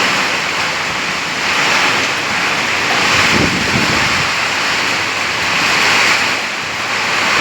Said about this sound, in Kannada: ಇಲ್ಲಿ ಬಂದಾಗ ಇಲ್ಲಿ ಒಳ್ಳೆ ಮಳೆ ಬರ್ತಾ ಇದೆ ವೀಕ್ಷಕರೇ